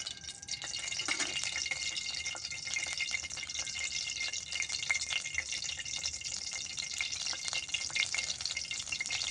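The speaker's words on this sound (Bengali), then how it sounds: "একটি শুকনো মরিচ দিয়ে নেওয়া হলো। ভালোভাবে ভেজে নিতে হবে।" Dried red chili frying in oil in a pan, a steady bright sizzle with fine crackles running continuously at moderate level, no talk.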